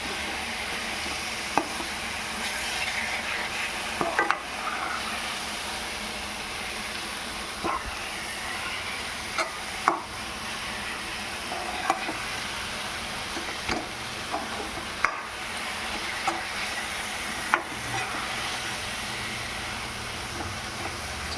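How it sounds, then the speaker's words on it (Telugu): A carrot and coconut sweet with ghee and cardamom is stirred in a pan, with a soft continuous sizzle and scraping broken by occasional sharp clicks of the spoon against the pan. "మనం ఇంకొక స్పూన్ ఘీని యాడ్ చేసుకుందాం. అలాగే ఇలాచి మిక్స్ చేసేసి ప్లేట్లో ట్రాన్స్ఫర్ చేస్తాం."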